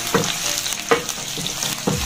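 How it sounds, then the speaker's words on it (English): Steady frying sizzle of diced bell peppers in a pan, with a few louder clanks or stirring strokes roughly every second, no voices. "The aroma of the bell peppers frying is just amazing."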